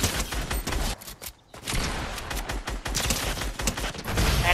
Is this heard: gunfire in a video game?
yes